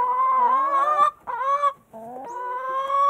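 Chickens in a dark coop let out loud, close, drawn-out squawking calls in a few bursts with short pauses, no other sounds around them.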